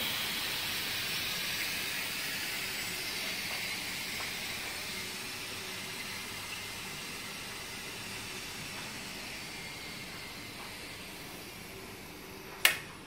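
A long, steady hiss of steam escaping from a pressure cooker that slowly fades, ending with a sharp click near the end.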